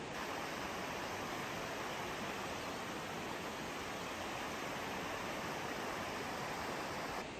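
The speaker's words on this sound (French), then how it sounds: "Petite balade solo près de la rivière. Juste écouter." A river flows steadily past a solo walker, a loud and continuous broadband rush of water that stays even and unbroken throughout.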